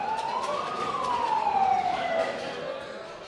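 Ambulance siren wailing as it arrives at a hospital after an airstrike, a single rising-then-falling tone over road noise, fairly near and moderately loud.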